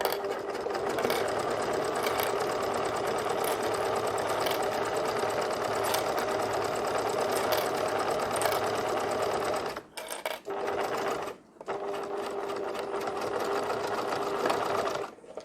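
A domestic sewing machine runs steady stitches forward and then backstitches on fabric, a loud continuous whir with two short pauses near the end before resuming.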